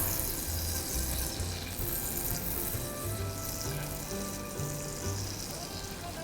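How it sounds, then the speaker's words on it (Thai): Unsalted butter melts into hot caramel in a pan just taken off the heat, giving a continuous loud sizzle and bubbling hiss throughout. "ใส่เนยนะคะ อันนี้เป็นเนยจืดนะคะ กิ้งให้ละลาย"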